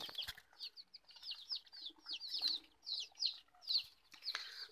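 Hens brooding on a nest of eggs at dawn in the Tây Bắc highlands, with soft repeated clucks and chirpy bird calls in a quick irregular series, fairly near, no talk.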